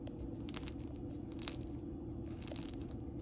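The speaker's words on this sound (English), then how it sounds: "you can hear it's like soft but crispy on the outside." Close, quiet crackling and crunching as a soft sourdough loaf with a crispy crust is squeezed by hand, small crisp bursts over a steady low background hum, with no talking.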